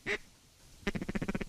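Ducks quack during a waterfowl hunt over decoys. One loud quack is followed by a pause, then a rapid run of about seven nasal quacks, close and clear.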